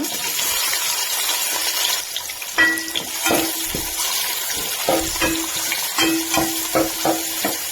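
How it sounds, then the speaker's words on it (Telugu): Onions fry in plenty of hot oil with cinnamon, cloves, cardamom and bay leaf for chicken biryani, giving a steady sizzle broken by intermittent clinks and scraping stirs. "ఎర్రగడ్డ బాగా కలర్ వచ్చే వరకు వేసుకుందాము నూనెలోనే"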